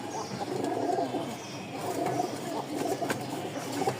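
Pigeons coo softly and repeatedly at close range, low throaty calls rising and falling across the clip among birds kept for sale, with light background noise.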